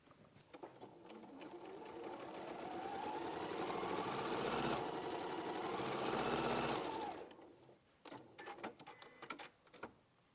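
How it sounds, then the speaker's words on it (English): A sewing machine stitches down fabric in a steady, close, whirring run for about seven seconds, then stops, leaving a few scattered clicks and handling noises. "we're going to stitch down those 2"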